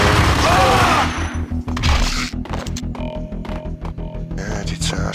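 Rapid bursts of gunfire from the video game Max Payne, a dense run of sharp repeated shots after a loud opening crash, with someone talking over the action.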